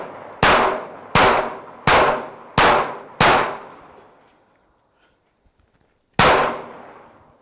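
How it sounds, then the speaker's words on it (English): Glock 43x pistol fired while moving: five sharp shots at an even pace, a pause, then a sixth, each loud and close with a ringing decay, no talk. "We have 7 shots left, so let's shoot on the move a little bit."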